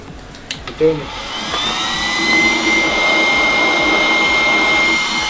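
A large homemade jet engine runs loudly and steadily, its broad roaring whine holding throughout after a few brief knocks near the start, close to the listener.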